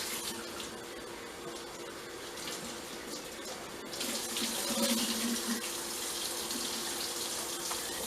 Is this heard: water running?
yes